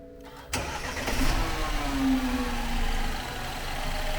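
A BMW N13 car engine, after repair of a leaking injector and damaged piston, cranks briefly and fires up, then settles into a steady, close idle with a faint rising whine.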